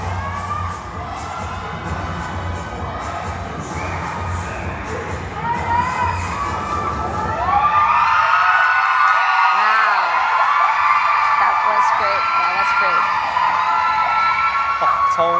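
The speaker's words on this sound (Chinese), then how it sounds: "从这个欢呼声就可以知道，2位选手的表现呢是获得了大大的肯定。" Loud crowd cheering with shouts and whoops at the 7th Ocean Cup cheerleading championship, a dense roar that swells louder midway with high yells over steady talk.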